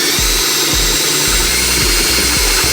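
A power drill enlarges pilot holes to 3/8 inch in an aluminum truck bed on a 2019 Ford F-350, with repeated short bursts of low motor whine starting and stopping over a steady background hum.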